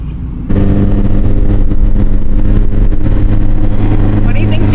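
A new car's engine runs steadily and fairly loud after starting abruptly, a continuous low rumble with faint variation throughout, with a voice mixed in.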